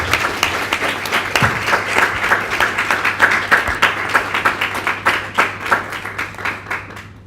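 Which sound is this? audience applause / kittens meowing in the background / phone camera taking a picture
audience applause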